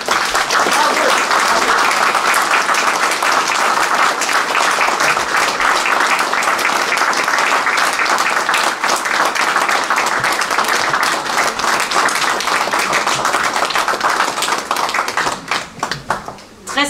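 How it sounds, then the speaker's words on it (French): A crowd gives loud, sustained applause for artists, a thick roar of clapping hands with voices mixed in, thinning to scattered claps near the end. "sous un tonnerre d'applaudissements, l'encouragement à tous ces artistes"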